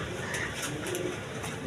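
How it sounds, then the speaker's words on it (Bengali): An imported Beauty pigeon, a parrot-shaped double-crested bird with a giraffe-like neck, coos steadily and close by, its soft, low calls mixed with faint chirps from other birds in the loft. "দেখেন কবুতর যেটা"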